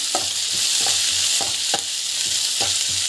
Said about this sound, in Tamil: அந்த பச்சை வாசனை போகிற வரைக்கும் நல்லா வதக்கணும்